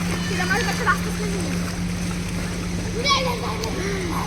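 Water splashes and sloshes near by while children's voices chatter and call out over a steady low hum.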